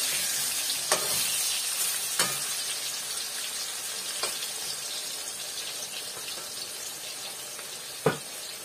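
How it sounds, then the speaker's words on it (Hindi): Potatoes frying in hot oil in a small home kitchen give a steady, dense sizzle, with occasional sharp clicks from stirring or the pan, and no talk. "आलू को हम अच्छी तरह फ्राई कर लेंगे।"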